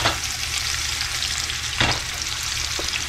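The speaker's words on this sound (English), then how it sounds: "I got some olive oil heating up in a pan here. I'll put these in here." Mullet fillets fry in hot olive oil in a pan, giving a loud, continuous close sizzle with a couple of brief sharper crackles, no talking.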